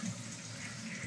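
Water rushes fast through pressurized toilet plumbing, a steady, faint, continuous hiss and gush from nearby with no voices over it.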